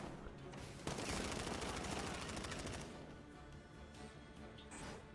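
Sustained enemy gunfire in Batman Arkham Knight: a dense, continuous automatic burst with a sharp impact near the start, rattling loudly for a couple of seconds before tapering into scattered fainter noise.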